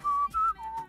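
Three clear whistled notes form a short melodic phrase from a well-known song, each held briefly with small gaps between, clean and close with nothing else underneath.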